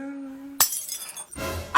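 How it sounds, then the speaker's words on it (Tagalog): A glass object shatters while someone is cleaning: a sharp crash with bright tinkling fragments, followed by a second scraping clatter, after a quiet stretch with a steady tone. "Unang araw pa lang dito, may nabasag ka na agad?"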